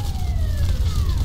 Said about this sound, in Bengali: দমকলের ঘণ্টার আওয়াজ ক্রমশ তীব্র হচ্ছে